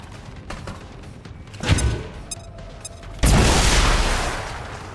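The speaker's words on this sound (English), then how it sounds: "Grenade out!" A grenade explodes in the tactical strategy game XCOM 2 with a sudden, loud, close blast that rolls on as a long rumbling decay, following a smaller thump and scattered clicks moments earlier.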